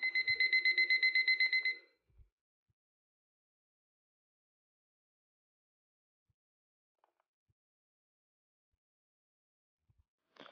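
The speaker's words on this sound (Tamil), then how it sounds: "பேட்டரி இன்செர்ட் பண்ணணும், கொஞ்ச நேரம் பீப் சவுண்ட் கண்டினியூஸாக இருந்துக்கிட்டே இருக்கும்." A digital alarm clock, just after batteries go in, gives a rapid pulsing beep for about two seconds, loud and close, then falls silent apart from a few faint clicks.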